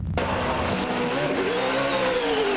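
A race car's engine screams close by while its tires squeal in a long, rising and falling skid, loud and unbroken over a couple of seconds.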